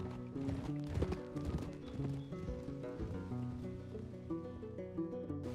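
Horse hooves clip-clop in a quick, steady gait in the video game Red Dead Redemption 2, running faintly beneath sustained game music.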